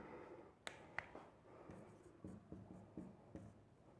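Chalk or marker writing on a board during a physics lecture, faint scratchy strokes and sharp taps at an irregular rhythm, quiet in a room.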